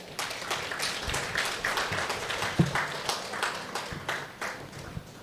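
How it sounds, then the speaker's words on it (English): Scattered clapping from an award-function audience welcoming dignitaries, an uneven patter of hands that stays fairly soft and thin rather than building into a full ovation. "Let us welcome all our distinguished dignitaries with a warm round of applause."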